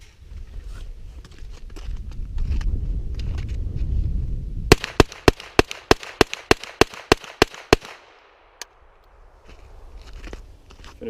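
A PSA AKV 9mm fires about ten sharp rapid shots outdoors at a range in a fast, steady string, preceded by rustling handling noise and followed by a single later report.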